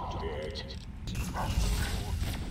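Gabe, a dog in the video game Fallout: New Vegas, barks and yips in short bursts at mid distance, with game ambience and some voice-like sound underneath.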